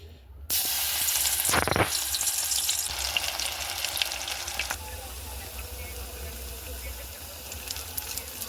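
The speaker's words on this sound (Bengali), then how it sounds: "এবার তেলে ভেজে নেব" Banana flower fritters (mochar pakora) sizzle steadily in hot oil, a close, dense crackle that flares briefly near the start and then settles into an even hiss.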